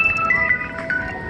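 A mobile phone ringtone chimes at an outdoor street block party, a short tonal melody of bright repeated notes heard up close over faint background bustle.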